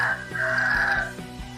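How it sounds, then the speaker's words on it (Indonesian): A rooster crows once, loud and close, with a drawn-out call that fades away near the end. There is no talk. "Ada ayam."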